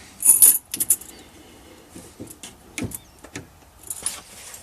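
A metal key blank is handled and loaded into a key cutting machine, giving bright metallic clinks and jingles in a few quick bursts up close, with softer taps and rattles between them and no talking.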